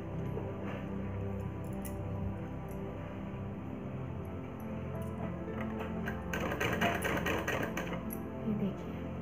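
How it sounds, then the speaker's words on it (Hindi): Domestic sewing machine stitching a frock's seam from the reverse side, a steady mechanical whirring with a brief louder, busier burst near the end, faint background noise throughout and no talking. "तो चलिए सिलते हैं।"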